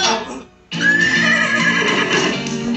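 Loud, close horse whinny from a horse being ridden, a brief opening call, a short break, then a long drawn-out, wavering neigh.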